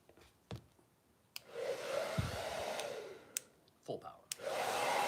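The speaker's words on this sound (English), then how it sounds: "So let's go through with a little more hair dryer" A hair dryer blows in bursts, whooshing on and off several times with short pauses and small clicks and handling noises between.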